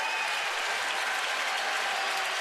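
A sellout baseball crowd of 45,891 at an Orioles home game against Washington in 2012, making a steady, dense roar of cheering and clapping that stays loud and unbroken, heard from a distance.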